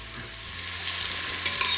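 Mushrooms drop into a pan of sun-dried tomato oil and fry with a steady, close hiss and sizzle that holds evenly for the whole short stretch, with faint stirring underneath.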